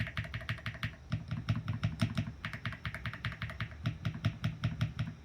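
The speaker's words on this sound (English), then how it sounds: "the spacebar on this is quieter than the rest of the keys" Fast, steady typing on a Keychron Q1 Ultra mechanical keyboard, crisp clacky keystrokes in an even rhythm, close and clear with no talking.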